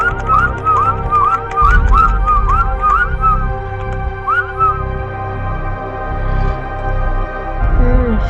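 A person whistles a quick run of short, rising chirpy notes, loud and close, then pauses before a few more notes near the end, over a low background hum.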